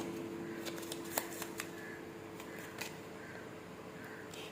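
Tarot cards being shuffled and handled close by, with soft papery riffles and a few light slaps over a faint steady background hum. No one speaks.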